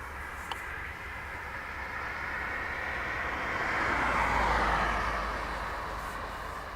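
A Shamrock airliner taking off from Dublin Airport runway 28 right: a broad, distant engine roar that swells to a peak midway and then fades, with no talk over it.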